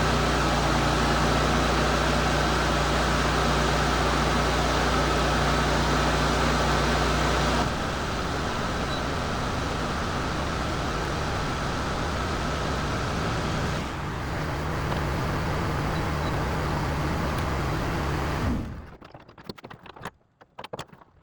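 A Ford Ranger engine idles steadily just after a fuel pump replacement, a continuous close rumble that shifts slightly in tone partway through before cutting away near the end.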